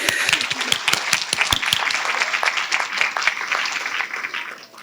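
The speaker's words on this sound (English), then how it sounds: "Give yourself a round of applause for that." Audience applause at a coronation ball for a city pageant, loud and close, with many individual sharp claps standing out in a dense burst that tapers off toward the end.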